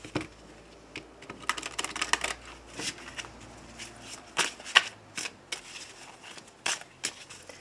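Tarot cards being shuffled by hand for a daily reading, a rapid, papery riffling in close irregular bursts with soft slaps and flicks, heard alone at moderate volume.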